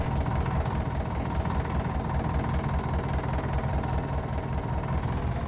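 A Universal tractor engine runs at a farm vineyard, making a constant, close, low rumble that stays steady without pauses.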